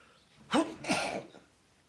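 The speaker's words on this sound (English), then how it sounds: "I sneeze." A single close sneeze, a sharp two-part burst of breath lasting about a second, then quiet.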